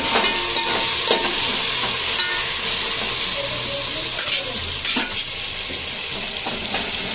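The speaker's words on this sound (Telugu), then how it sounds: "ఇది కొంచెం సిమ్లో పెట్టి వేయించుదాము దాన్ని" Rice and chicken fry together in a pan over a low flame. A steady, close sizzle carries through, broken by the scrape and clink of a utensil stirring the pan. No one speaks.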